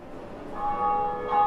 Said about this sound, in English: Ah, the church bells.